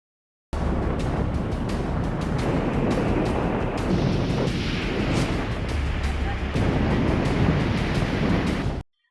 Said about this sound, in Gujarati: ઊંચા ઉછળતા મોજા અને કાંઠે પછડાતા મોજાનો અવાજ ડરાવી રહ્યો છે